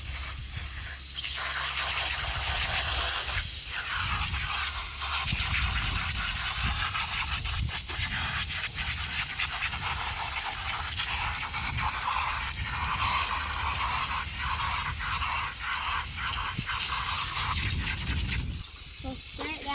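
Water sprayed from a hose to rinse a dirt bike air filter, a loud, steady hiss with rough splashing bursts as the stream moves over the filter, sustained nearly throughout.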